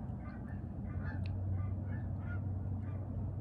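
Several geese honk in a repeated series of nasal calls that sound somewhat distant and fairly faint, set over a low rumbling background.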